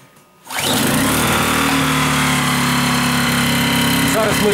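A Zipper ZI-STE1000INV 800 W inverter generator starts after a short quiet moment, then settles into a steady, loud, even engine hum that runs close and unbroken to the end.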